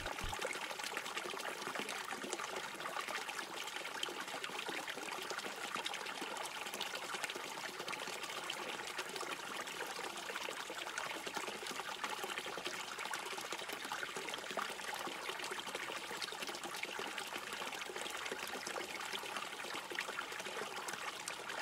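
Fountain water flows in a continuous, even trickle and splash that stays at the same level throughout, with no voices over it.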